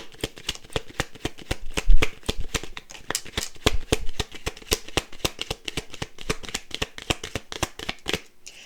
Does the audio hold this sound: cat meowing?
no